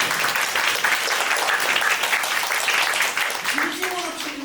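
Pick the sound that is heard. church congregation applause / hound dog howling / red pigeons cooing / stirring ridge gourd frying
church congregation applause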